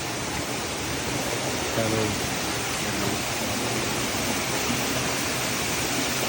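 A waterfall roars as a steady, loud wash of falling water, with a faint voice briefly under it.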